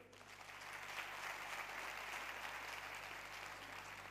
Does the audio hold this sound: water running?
no